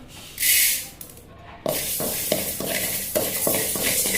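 Fenugreek seeds are dry roasted in a pan for mango pickle spice powder, giving a close, steady sizzling hiss broken by repeated scraping stirs.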